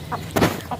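A broody hen clucks in a farmyard, a few short throaty clucks spaced apart with one louder burst in the middle, close by and alone without voices.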